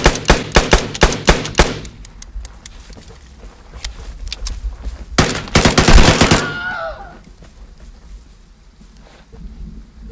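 Light machine gun fired in the survival video game Vigor: two loud, close bursts of rapid automatic fire, the second longer, each followed by a ringing tail, with quieter footsteps and movement in between.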